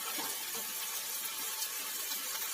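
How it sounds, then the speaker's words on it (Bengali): Water poured into a pan of spice paste frying in a little oil with turmeric and chili powder, a steady, fairly loud hiss and sizzle running continuously without pause. "এতে জল দিয়ে দেবো সামান্য পরিমাণে।"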